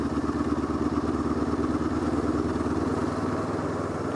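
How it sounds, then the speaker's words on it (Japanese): A Honda CL500 motorcycle engine hums steadily in sixth gear as the throttle opens from low revs on a mountain road, a continuous mid-pitched drone with faint mechanical clatter and no talk. "試しにこの6速のままスロットルだけ上げていきます。"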